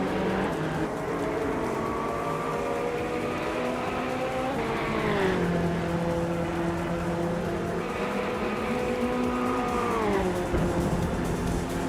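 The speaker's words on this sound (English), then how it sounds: "Max Spirelli and Eliciton 1095 are still nose to nose for 5th." Race cars in a video game roar continuously, with engine tones rising and falling in sweeps as they shift and jostle, a dense steady pack sound from start to finish.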